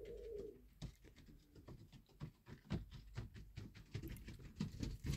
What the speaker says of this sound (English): The flipping birds on the roof of my shed, pigeons and that, waddling up and down.